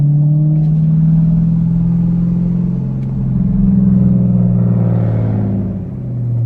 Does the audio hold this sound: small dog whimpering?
no